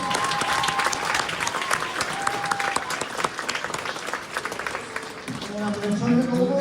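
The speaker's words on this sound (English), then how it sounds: "how about one more round of applause for all of our ensembles up there?" A school audience applauds the ensembles after a middle school winter concert, dense sustained clapping that fills the room and fades near the end as a voice begins talking.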